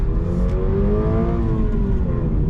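A 2025 Subaru BRZ tS four-cylinder engine accelerates hard in first gear, its rising engine tone climbing steadily and loud from inside the car across the whole stretch, with no talking.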